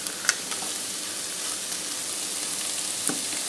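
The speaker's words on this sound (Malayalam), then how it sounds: "ഞാനിപ്പോൾ 1/2 കപ്പ് ക്യാരറ്റ് ചേർത്ത് കൊടുക്കുന്നുണ്ട്" Half a cup of carrots sizzling in a pan for vegetable fried rice, a steady, even crackle throughout with a couple of brief sharper pops, no voices.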